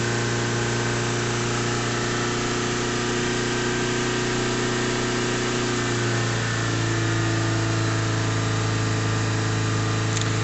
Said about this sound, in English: we're using our pedal to accelerate it